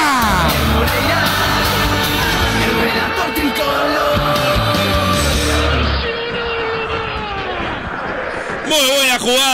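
Stadium crowd at a Nacional versus Cerrito football match roaring and yelling in celebration after a goal, loud and sustained, with an excited radio commentator shouting over it throughout.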